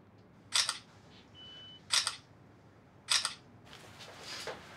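Single-lens reflex camera firing three separate shutter clicks about a second apart, each close and crisp, with a faint high flash-charging whine between the first two and a softer mechanical rustle at the end.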